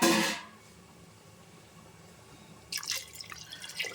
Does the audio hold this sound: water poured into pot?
yes